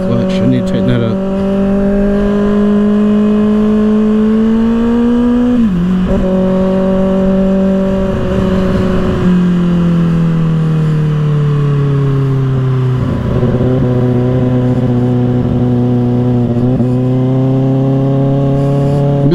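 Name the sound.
Kawasaki ZX-6R motorcycle with M4 exhaust riding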